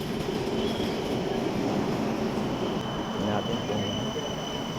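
A passenger train rumbles into a station with a steady roar of wheels and carriages. Faint squeals and clatter rise over the noise, and muffled voices can be heard underneath.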